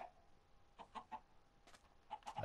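Chickens cluck in short scattered bursts in Minecraft, fairly quiet, with occasional sharper squawks against a soft background.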